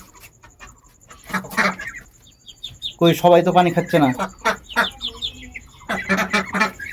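Young ducks kept in a pen while slightly unwell, with medicine mixed into their drinking water, give off short clucking, fowl-like calls in bursts, heard close and mixed with a person talking nearby.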